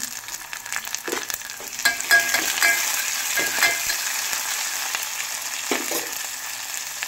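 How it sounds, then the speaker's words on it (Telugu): Curry leaves hit hot oil in a pan for a tomato and potato curry, giving a loud, steady sizzle and crackle with scattered spatters and occasional stirring clicks, and no voices. "ఇది కొంచెం ఫ్రై అయ్యాక కరివేపాకు వేసుకుంటున్నాను"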